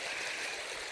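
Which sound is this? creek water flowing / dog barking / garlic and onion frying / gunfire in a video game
creek water flowing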